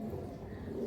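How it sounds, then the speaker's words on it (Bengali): A green Malbai pigeon coos in a short, low, throaty burst, close by and fairly clear, with no talk over it. "খুব কম বাড়িতেই আছে এই সবুজ মালবাই পায়রা বন্ধুরা"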